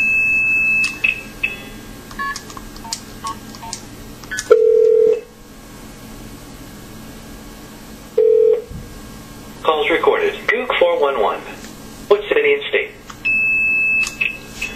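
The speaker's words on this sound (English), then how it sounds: "let's try dialing an old directory assistance code, KP131START" Multi-frequency signalling tones dialing an old directory assistance code through a phone system demo, several short steady tone bursts and beeps spaced unevenly between stretches of someone talking.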